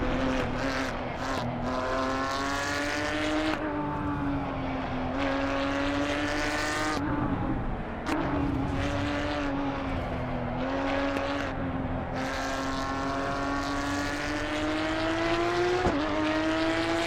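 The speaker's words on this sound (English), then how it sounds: "Man, this car sounds the best." A race car in the Assetto Corsa Evo driving game screams through repeated upshifts and downshifts, its engine note rising and dropping in a continuous, loud, close run punctuated by gear changes and brief tire noise, with no talking.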